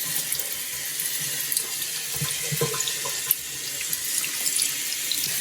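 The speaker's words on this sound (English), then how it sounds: "as soon as I did the hot water on Milton, she stopped shivering." Hot water runs steadily from a tap during a dog's bath, a close, continuous splashing rush with faint bumps and movement in the background.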